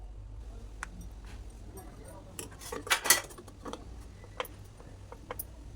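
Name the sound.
stirring food with salt in a pan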